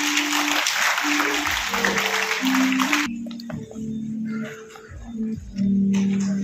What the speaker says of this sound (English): We also have graduate applause again.